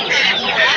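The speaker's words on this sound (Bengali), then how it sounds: "এটা হচ্ছে চীনা হাঁস বলে, চীনা হাঁস।" Chinese ducks at a crowded poultry market give harsh honking calls that blend into a continuous loud din of fowl, with little talk in the background.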